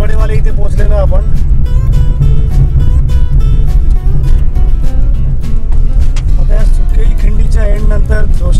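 A car rattles and rumbles continuously along a rough stretch of the Mumbai Goa highway near Joshiwadi, the vibration loud and close inside the cabin, with a voice talking over it.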